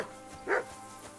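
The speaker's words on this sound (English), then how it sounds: "I assume you can hear that damn dog of yours barking." A single short dog bark sounds at a distance in Kingdom Come: Deliverance II, faint and muffled over a quiet ambient background, with no talking.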